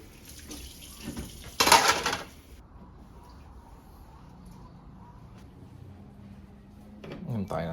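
Running tap water splashes into a sink while dishes are washed, with a brief loud rush of water and clatter early on, then quieter handling and a faint trickle.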